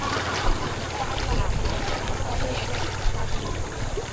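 Boats crowding the water at Calayo during Holy Week, heard as a steady broadband rumble of motors, wind and water noise throughout, with a low engine drone underneath.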